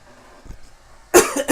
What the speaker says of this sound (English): cut out some of these coughs and stuff